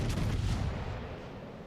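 A battleship shell hits in the naval combat game World of Warships Legends, producing a loud, heavy boom whose rumbling blast slowly fades over under two seconds with no talking.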